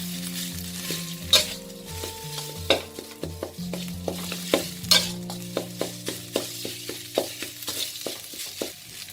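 Thai curry paste is stir-fried in a pan for a pork rib chilli curry, giving a steady sizzle broken by a rhythmic series of sharp spatula scrapes and taps. A faint tonal hum runs underneath, with no speech.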